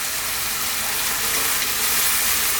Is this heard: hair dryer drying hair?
no